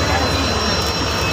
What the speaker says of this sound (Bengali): ট্রেন ছাড়লো।